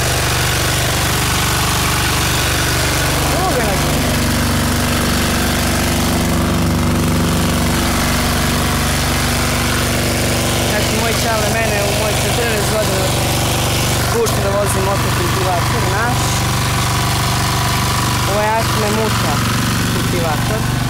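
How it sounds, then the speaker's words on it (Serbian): A Kipor 10 hp diesel engine on a cultivator runs steadily, a loud, close, continuous low drone with a throbbing hum, while voices talk over it now and then. "10 konjskih snaga ima motor. Kipor. 10 konja. Dizel."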